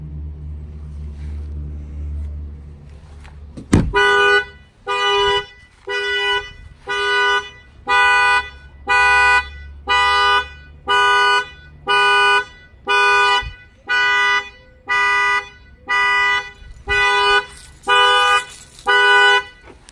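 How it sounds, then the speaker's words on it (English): A Nissan Maxima's car alarm goes off after its shock sensor fires, beginning with a sharp thump, then a loud, close, evenly spaced series of blaring horn honks repeating about once per second. "That's the alarm triggering"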